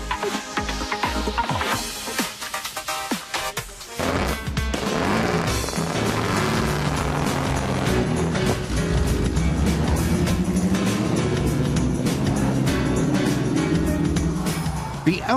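Vintage Silver Arrows Formula One racing cars driving on the Nürburgring North Loop, engines roaring loud and close with a brief drop before a sustained, rising engine note, partly overlaid by a talking voice.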